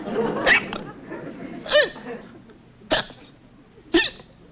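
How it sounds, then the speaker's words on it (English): A man with persistent hiccups in an old comedy film hiccups four times at roughly one-second intervals, each a sharp, close vocal jolt over quieter background sound. "Well, now he has a headache to go with his hiccups."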